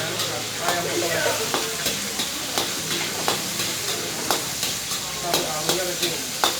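Fried rice with chopped chicken cooks in a cafe kitchen pan, a steady loud sizzle and hiss broken by regular sharp clacks of a utensil stirring and scraping, about one or two per second, with faint voices behind.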